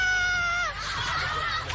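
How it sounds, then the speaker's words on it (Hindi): Contestants on a Japanese game show scream and shriek as they drop into a pit, a loud, wavering chorus of high cries with laughter-like breaks, close and continuous over a short burst. "सुनिए चीखें।"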